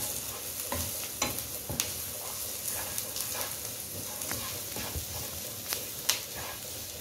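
Ground chili spice masala frying and browning in a pan, a continuous close sizzle broken by repeated scraping stirs and a few sharp knocks of the spoon, with no voices.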